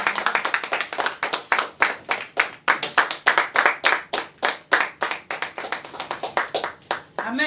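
A church congregation claps together in a fast, loud, steady rhythm while praising the Lord, dozens of sharp unified hand strikes in a continuous beat lasting several seconds.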